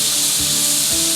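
A steak sizzles and fries steadily in a hot pan, a loud, constant hiss close by with faint low bumps underneath.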